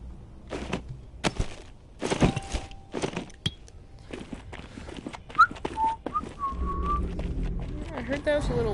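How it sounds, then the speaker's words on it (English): A person whistles loudly in a few short, shrill, sliding notes, mixed with talking voices and scattered clattering sounds. "I heard that was a little loud for you guys. The whistle."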